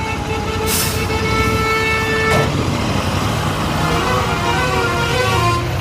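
Busy road traffic on a motorbike ride, with trucks rumbling close by and two short horn toots early on, the engine and road noise staying loud and constant throughout.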